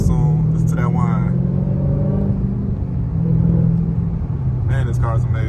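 A new car being driven to the mall gives a steady low engine drone with a faint whine above it, heard from inside the cabin while a person talks over it for most of the time.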